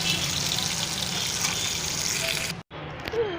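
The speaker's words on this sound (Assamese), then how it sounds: "আৰু ইফালে মই মাছো ফ্ৰাই কৰি আছোঁ।" Fish and meat frying in a pan, a loud, dense, crackling sizzle close up that runs steadily, cuts out for an instant near the end, then resumes more quietly.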